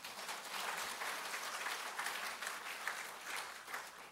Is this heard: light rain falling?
no